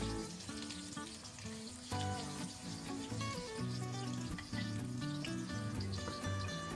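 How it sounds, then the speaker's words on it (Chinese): Garlic slices, chopped scallion and red pepper strips are stir-fried in vegetable oil in a hot pan over low heat. A soft, continuous sizzle sits under loud background music, with no voices. "热锅放入适量的植物油，油热以后下入辅料"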